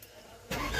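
A car engine starts up after a steering pump replacement, cranking into a loud, steady run that holds to the end following a quiet moment.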